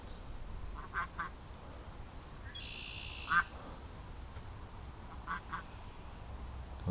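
Ducks wander a farm lawn in warm weather, a few scattered quacks, some doubled, heard from a short distance over quiet outdoor background.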